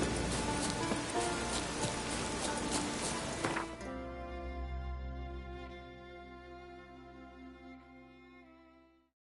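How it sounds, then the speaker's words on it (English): Rain falling in The Witcher 3 on PS5, a dense hiss of drops that runs loud at first, then drops off sharply as soft musical tones take over and fade out. "Rain"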